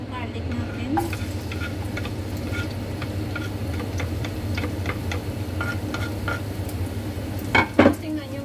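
Garlic dropped into hot olive oil in a pan, a steady low sizzle with light repeated ticks and utensil taps, and a couple of sharper clatters near the end.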